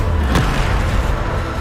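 Bombarda spell explosion in the Hogwarts Legacy video game, a loud, dense booming blast with a sharp burst near the start over sustained low rumble.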